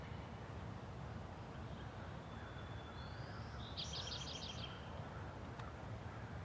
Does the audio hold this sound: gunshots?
no